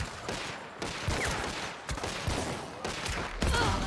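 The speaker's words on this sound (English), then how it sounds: "I can't believe you didn't hear the gunshots right next to us." Gunfire rings out in the video game Hunt, several sharp nearby shots and bursts landing one after another in irregular rhythm, loud and close with no talk over them.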